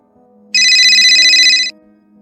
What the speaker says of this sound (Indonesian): Terdengar suara HP Kak Naura yang berada di tasku